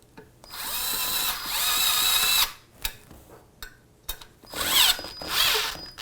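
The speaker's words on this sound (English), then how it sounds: "It's very difficult to use, so I'm using an electric screwdriver." Electric screwdriver driving Phillips head screws during assembly of a DDC Sport M1 folding e-bike, in two close, loud whirring bursts with a short pause and small clicks between.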